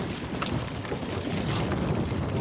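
Strong gusting wind roars steadily across a fishing boat at sea in a storm, a dense unbroken rush with buffeting on the microphone and no voices.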